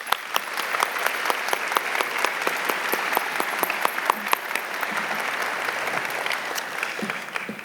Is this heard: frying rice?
no